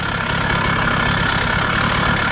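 The large engine of a motorized bicycle idles loudly and steadily, with a close, continuous rough drone and no voices.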